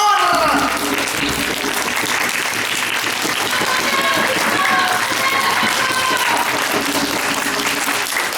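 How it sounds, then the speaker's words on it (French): A lively crowd at an African storytelling show claps loudly on request, with sustained dense applause and scattered cheers and voices rising through it. "Alors applaudissez fort, fort!"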